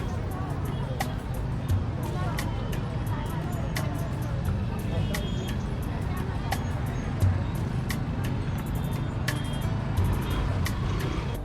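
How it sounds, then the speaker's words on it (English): Steady traffic din on a chaotic Kathmandu street with bustling markets: continuous engine rumble from cars, trucks and buses, murmuring crowds, with scattered sharp beeps and clatter on top throughout. "we were back into the chaos of Kathmandu with its traffic and its bustling street markets"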